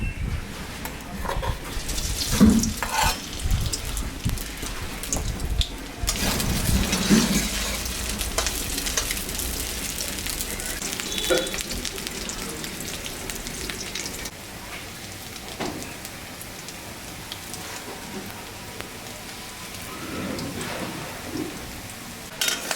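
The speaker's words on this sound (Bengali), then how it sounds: "সয়াবিনটা ম্যারিনেট করে রেখে দিয়েছিলাম, এটা এখন আমি" Marinated soybean chunks fry in mustard oil with a close, steady rain-like sizzle and crackle, louder early on with some stirring and clattering, then a softer, even hiss that carries on with no talking.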